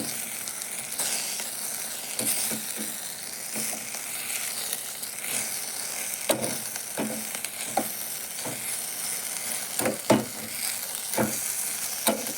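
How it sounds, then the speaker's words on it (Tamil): Okra deep-frying in hot oil gives a steady, close sizzle, broken by sharp clicks and scrapes of stirring at irregular intervals, with no voices. "நல்லா டீப் ஃப்ரை பண்ணிட்டுங்க"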